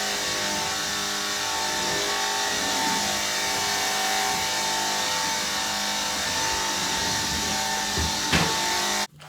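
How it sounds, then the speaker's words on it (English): A vacuum cleaner hoovering behind a bed in a messy bedroom, running as a steady, loud, continuous whooshing roar that suddenly cuts off near the end. "I've just finished hoovering behind my bed."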